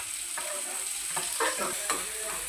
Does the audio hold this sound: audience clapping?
no